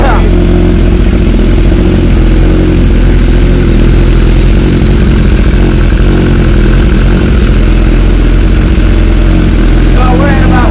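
A car engine idling through a Rocks exhaust during a coolant change, a loud, steady low rumbling drone that holds without pause, very close, with speech-like sounds mixed in.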